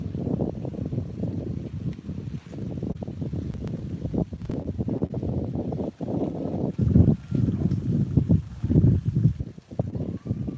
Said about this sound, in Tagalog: Kasi humangin bigla eh.